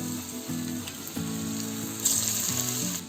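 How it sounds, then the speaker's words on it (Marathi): Raw papaya kofta balls drop into hot oil and fry with a steady, close sizzle, with brief spatters and a bubbling surge near the end. "आता आपल्याला तेलामध्ये आहे ना एक एक गोळी सोडूया"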